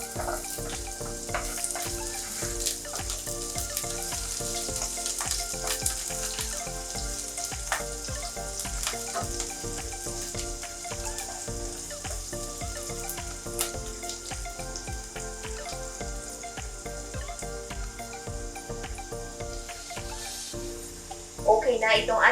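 Onions and garlic sauté in a pan for a tuna and cabbage dish, with a continuous crackling sizzle, scattered stirring scrapes and a louder burst near the end, no speech.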